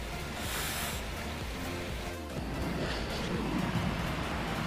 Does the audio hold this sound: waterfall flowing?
yes